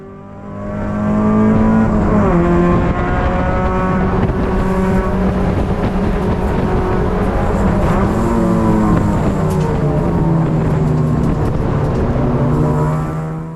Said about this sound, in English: this little Ford Ranger. Must be the 4-cylinder. Sounds really cool.